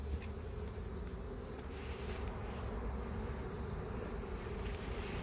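Honey bees buzz at a hive during an inspection, forming a dense, continuous, steady drone close by with no voices.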